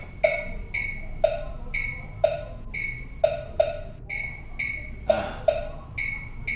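A digital piano's built-in metronome on a Pastel PPT-POP88 portable folding 88-key electric piano ticks with short electronic beeps, steady at about one per second, with occasional louder accented beats, heard alone.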